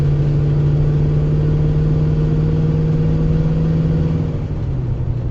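A steady car engine hum holds a low drone, then dips slightly in pitch near the end, with no talking.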